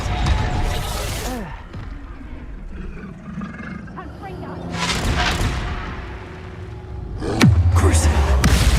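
Reducto blasting spells in Hogwarts Legacy combat in the Feldcroft Catacomb go off as a series of heavy booming explosions, three strong blasts spread across the stretch with rumbling between them and a loud deep final impact.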